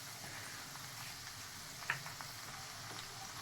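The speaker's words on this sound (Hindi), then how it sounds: "हम डालेंगे हरी मिर्च। इसको अच्छे से भून लेंगे।" Green chillies frying in a pan for samosa filling: a faint, steady sizzle with a soft scrape or stir near the middle, with no talking.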